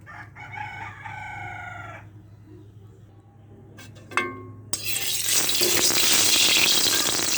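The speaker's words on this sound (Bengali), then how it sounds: "এই দেখেন তেল দিছি।" Cooking oil poured into a hot karai bursts into a loud, continuous sizzle partway through, after a quiet stretch where a rooster crows in the background.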